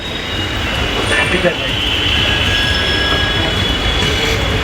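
A Mumbai metro train rumbles along steadily with a constant roar and a thin high squeal of wheels, heard from inside the carriage.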